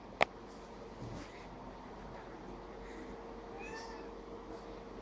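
A house cat sitting at a window watching birds gives one sharp, brief meow near the start, followed by quiet indoor room tone.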